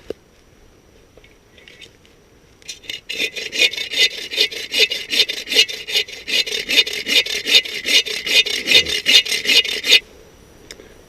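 Hand saw cutting through wood to produce sawdust for a fire-starting tinder bundle, a fast steady series of rasping back-and-forth strokes, close and loud, for about seven seconds with quiet before and after.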